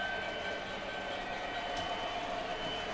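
Model train running conventionally on a home layout under TMCC remote control, giving a steady, continuous rolling hum with a faint high whine, close and even throughout with no voices.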